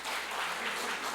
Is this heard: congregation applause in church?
yes